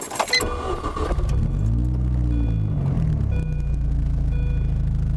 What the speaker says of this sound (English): turn the car on and kind of give you a little sample of how horrible its throttle response is